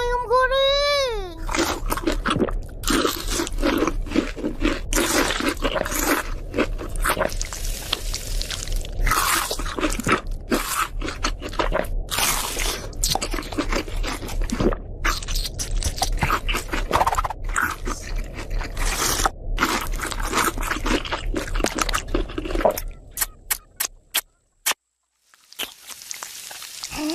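Eating fried chicken: repeated sharp crunches and chewing bites in irregular bursts over about twenty seconds, close and fairly loud, with a cartoon soundtrack beneath and a few voices.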